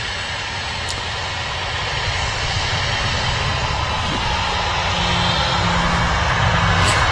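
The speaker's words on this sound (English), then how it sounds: "Another Ryanair departing as one's taxiing in here." A Ryanair jet airliner departing Manchester Airport, a broad steady engine rumble that builds gradually in loudness as it climbs away at a distance.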